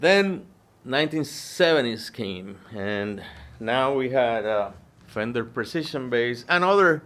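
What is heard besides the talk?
No everyday noises stand out.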